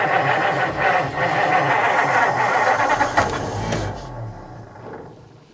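A 1949 Meteor car engine being primed with gas, then cranking and catching into a loud rough run near at hand, before it cuts out and goes quiet toward the end.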